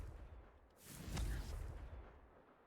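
A Confringo blasting spell goes off in Hogwarts Legacy as a single whooshing blast with a low boom near the middle, rising from quiet background and fading out over about a second.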